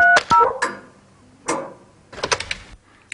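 A landline telephone is dialed with a couple of brief keypad tones followed by sharp clicks and soft tapping in a quiet room, with no voices.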